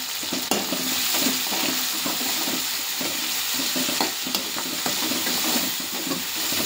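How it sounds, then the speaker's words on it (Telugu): Onions and green chillies fry in a pan with a touch of salt, a loud continuous sizzle with occasional scrapes and clicks of stirring, no talk. "ఉల్లిగడ్డలు పచ్చిమిర్చి జల్ది మగ్గుతాయి"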